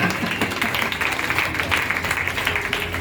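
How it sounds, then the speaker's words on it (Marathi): A church congregation claps their hands in praise, making dense, continuous applause that fills the room for a few seconds with no pause. "टाळी वाजवून प्रभूला धन्यवाद द्या"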